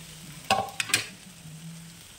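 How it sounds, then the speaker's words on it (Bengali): Boiled chicken is stirred into sizzling, well-fried masala for a chicken bharta, with a few sharp spoon scrapes and clacks over a soft, steady frying hiss. "মশলার সঙ্গে চিকেনটাকে ভালো করে নাড়াচাড়া করে মিশিয়ে নেব।"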